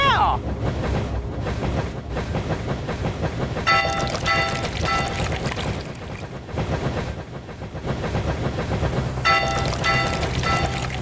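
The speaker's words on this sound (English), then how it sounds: "The dinosaur train pulls ahead!" A cartoon dinosaur train races along rails with a continuous rumbling clatter and rhythmic clickety-clack, joined by brighter metallic bursts that come and go. No one speaks.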